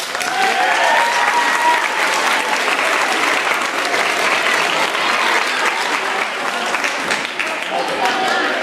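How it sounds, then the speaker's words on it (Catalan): Loud, sustained applause from a crowd at a school gathering, honouring the parents' association, dense clapping running steadily throughout without a break. "Un gran aplaudiment per l'associació de pares."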